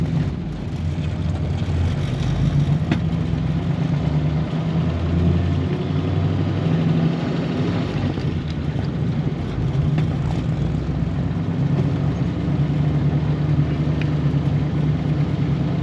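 A 1938 Ford Deluxe sedan with a flathead V8 pulls away in first gear, its deep engine drone and low rumble steady and close from inside the car, with no one talking.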